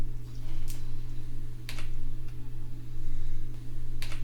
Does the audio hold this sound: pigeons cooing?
no